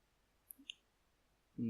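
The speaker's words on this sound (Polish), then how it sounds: "obkręcamy myszką do takiego położenia i klikamy lewym klawiszem mysz" A computer mouse clicks a couple of times in quick succession during drawing software work, small sharp ticks in a quiet room before a voice begins speaking.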